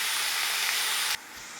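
Spinach drops into hot oil with mustard seeds and chilies, bursting into a loud close steamy sizzle that cuts sharply quieter after about a second, followed by softer frying and a couple of light knocks.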